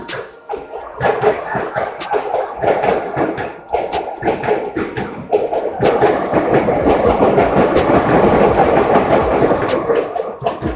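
Pune Darbhanga Express passing a station in India, heard as a loud, continuous rumble with repeated clickety-clack thumps of wheels over rail joints, building steadily over about eleven seconds.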